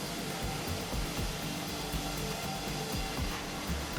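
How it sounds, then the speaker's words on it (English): Sawmill carriage carrying a log past an upright bandsaw in a modern mill, slicing off thin planks; a steady loud mechanical roar with broadband whine and low rumbling, continuous throughout. "The carriage moves the log past the upright bandsaw, slicing off thin planks according to the cutting pattern established by the laser scanner."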